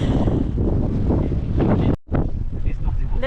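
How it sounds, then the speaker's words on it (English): Loud wind buffets the microphone on a sailboat heeling upwind at sea in gusty conditions, a roaring rush with brief dropouts and water noise, as people talk faintly beneath. "Gusts have arrived, but of course we are upwind"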